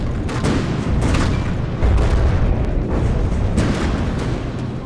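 Missiles exploding in the naval combat game From the Depths, a loud continuous rumble of overlapping booms and blasts with repeated sharp impacts through the whole stretch.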